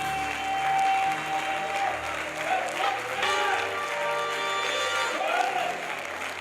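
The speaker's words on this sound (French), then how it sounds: "J'aimerais qu'on acclame le Seigneur pour sa vie." A church congregation at a Sunday service breaks into sustained applause, a dense wash of clapping from the crowd that holds steady for several seconds.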